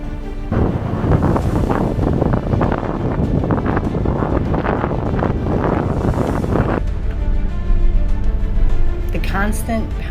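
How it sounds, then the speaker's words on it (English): Strong wind rushes and waves pound against the hull of a sailing boat beating upwind off Australia near Keppel Island, a loud continuous roar with a voice speaking over it and a quieter stretch near the end. "The constant pounding of the waves against the hull. Yep, you feel that. The wind noise"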